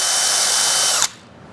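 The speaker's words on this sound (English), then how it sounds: "I think my drill bit's a little bit dull." A power drill with a dull bit grinds steadily and loudly at slow speed during crankshaft seal work on a Yamaha 100 Trailmaster, then cuts off abruptly, leaving a quiet room.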